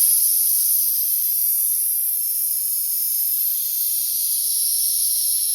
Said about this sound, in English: We just went ahead and we pulled the MenGrills pressure cooker off the fire down there, and now it's time to depressurize it